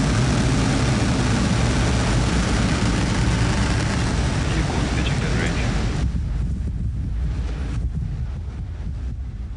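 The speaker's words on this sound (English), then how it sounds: "Ignition. And liftoff." A SpaceX rocket carrying a SiriusXM satellite roars after liftoff, a loud, continuous broadband rumble mixed with wind buffeting that thins out partway through.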